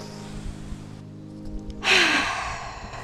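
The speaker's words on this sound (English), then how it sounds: "Take a really big, really deep inhale." A deep inhale during a restorative yin yoga session for relaxation, a single breath swelling into a loud, close rush of air near the middle and then easing off over the last second, with no talking.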